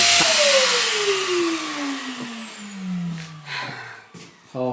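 A Hoover vacuum cleaner's motor whines loudly and then winds down, its pitch sliding steadily lower, followed by a few dull knocks and bumps.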